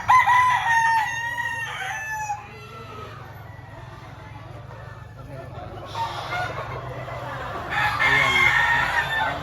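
A rooster crows loudly at a wet open-air market in Lipa, one long call at the start and another near the end, with clucking and a voice talking amid the market background.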